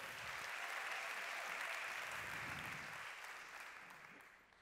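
A church conference audience keeps up steady, distant applause that holds evenly for several seconds before slowly fading.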